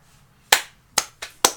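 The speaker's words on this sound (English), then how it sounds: "I can hit a button and people applaud for me" A canned applause effect triggered from a button comes through as four sharp, separate claps in quick succession after a short quiet lead-in, with no voices.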